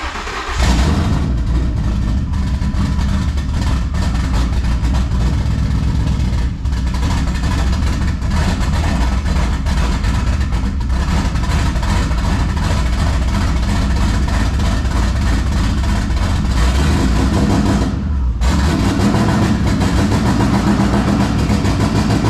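A twin-turbo car engine on its first start after a fresh build with a new oil system, running loud and close at a steady idle with slight rises in revs, briefly dipping near the end.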